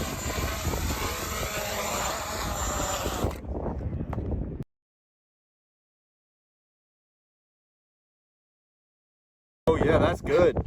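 A drone carrying a radar validation pod hums with a steady, buzzing propeller drone for several seconds and then cuts to silence before the loud rotor noise returns briefly, with voices mixed in.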